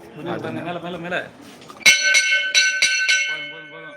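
A bright metallic temple bell at the Bhoominathar temple in Thiruchuli rings several times in quick succession, its tone lingering, after a stretch of speech at the start.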